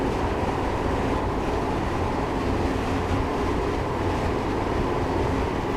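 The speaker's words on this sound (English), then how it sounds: "for the moment I'm just going to allow the train to continue to coast" A Class 158 diesel multiple unit coasting at around 75 mph in Train Simulator 2018 on the Cardiff to Bristol line, giving a steady broadband rumble and rush of wheels and air that holds even throughout, with no voices.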